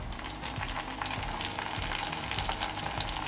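Onions frying in a clay pot as tomato puree goes in, a dense continuous crackling sizzle heard up close at a steady level, no voices.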